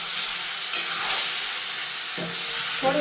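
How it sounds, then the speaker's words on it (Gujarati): Stuffed papdi valor beans frying in hot oil, a dense, loud continuous sizzle close up, with a few faint stirring scrapes near the end and no voices. "તેલમાં આપણે એને દાજવા દેવાની છે, એટલે થોડીક આમ કડક પણ થઈ જાય"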